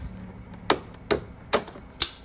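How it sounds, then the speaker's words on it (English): A plastic prying tool works at a spring clip on the rear bumper of a 2014 BMW X3 F25, producing four sharp, evenly spaced plastic clicks and snaps over a faint low background hum. "you need to get some sort of plastic prying tool in there and pry it out"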